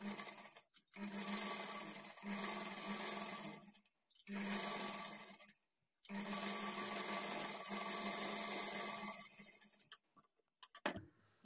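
A sewing machine stitches the hem of a blouse sleeve, running in steady whirring stretches broken by short pauses, close and loud with no talk.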